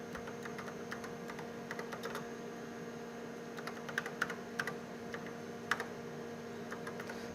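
Someone types a command to a PUMA robot on a computer keyboard, with soft, sparse key taps at an uneven pace over a constant electrical hum in a quiet room.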